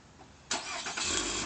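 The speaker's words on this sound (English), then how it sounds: "It has the remote start, so if you have the doors locked, you just press this button," A 2013 Nissan Altima SV with a 2.5-litre four-cylinder engine fires up by remote start: quiet at first, then a sudden crank and catch as the engine roars to life and settles into a steady idle.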